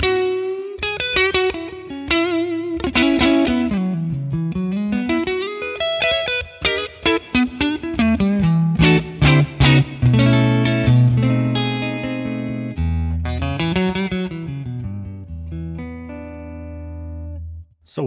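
Stratocaster on the neck pickup through a clean Friedman PLEX amp capture with reverb, picking a melodic run of single notes, slides and plucked chords, moderately loud and alone, ending on a ringing chord.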